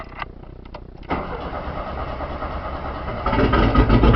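A Porsche 931 engine cranks with a few short bursts, then catches and runs with a rough, steady idle that grows louder toward the end, heard close up without speech.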